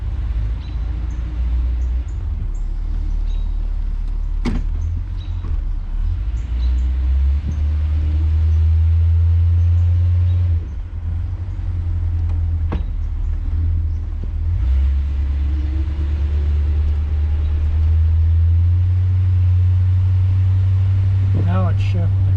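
A 1966 Ford Galaxie 500 convertible driving, its engine a loud low rumble from inside the car that rises and drops as the automatic transmission shifts, with a voice talking over it.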